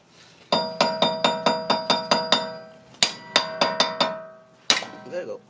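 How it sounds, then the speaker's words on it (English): A hammer strikes a wheel stud on a 2008 Honda Civic, a close series of sharp metallic clanks in quick regular bursts, about eight blows, a pause, then five more and a final hit. "Then let's hammer it."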